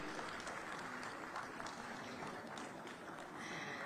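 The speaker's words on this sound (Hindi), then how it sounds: "जोरदार तालियां आपके लिए" A crowd applauds at a women's day job fair event in Lucknow, a fairly faint but continuous patter of many clapping hands heard from a distance.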